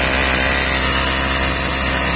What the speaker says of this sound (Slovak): Ako je počuť, kosačka nám ide perfektne